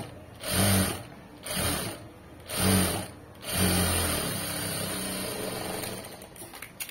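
Sewing machine stitching a fabric hem joint: four short, loud whirring bursts of rapid stitching separated by brief pauses, then a longer steady run that fades into quieter handling noise, close up.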